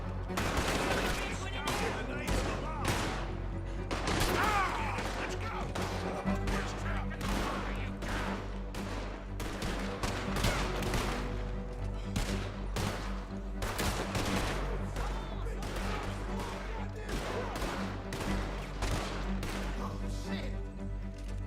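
Repeated gunshots from a shootout in Red Dead Redemption 2, sharp cracks coming in bursts all the way through, loud and close, over steady game sound with voices talking.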